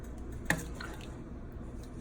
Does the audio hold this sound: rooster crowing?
no